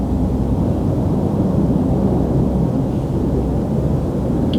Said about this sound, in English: there's an actual airplane, if you can hear it in the background